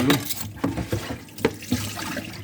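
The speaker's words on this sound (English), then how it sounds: "Give your hands a quick wash" Water from a kitchen tap running over hands during a quick wash while cooking a pasta bake, an uneven splashing patter with small drips, close and moderately loud.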